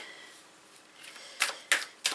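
Deck of cards being shuffled by hand for a spirit reading, quiet riffling that builds into three sharp, crisp bursts near the end, close and alone.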